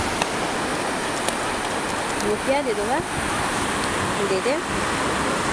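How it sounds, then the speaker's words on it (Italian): Steady roaring wind and crashing surf on a white-sand beach in Fuerteventura fill the whole clip, with a person talking briefly over the noise. "Si è alzato il vento da qualche giorno e quindi ecco, ci sono delle onde assurde"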